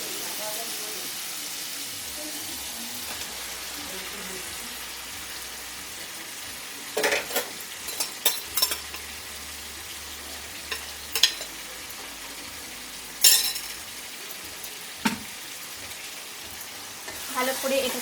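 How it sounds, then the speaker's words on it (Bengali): Marinated mutton is stirred into a frying spice paste for mutton kosha, a soft steady sizzle running throughout while a spatula scrapes and knocks against the pot in scattered bursts during the second half. "মশলার সাথে মিশিয়ে নিচ্ছি মাংসটা"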